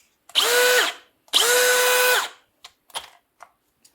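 A Bosch Professional GSB 18-LI cordless drill driver spins up twice in loud, close whirring bursts of about a second each, followed by a few short clicks and taps.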